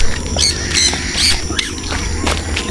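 Loud, harsh parrot squawks repeat several times in close succession during an outdoor free flight session with a parrot club in Dolores, San Fernando, Pampanga, sharp and near.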